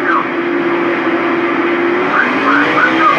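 Race cars roar around the Indianapolis Motor Speedway during the 2005 Brickyard 400, a loud, steady engine drone with cars whining past in quick succession and no talk.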